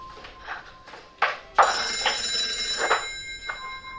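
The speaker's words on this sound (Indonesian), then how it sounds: "Setelah itu Aca mendapat telepon dari Radit." A telephone rings with an electronic trilling tone in repeated bursts, starting faint and then growing louder and steadier.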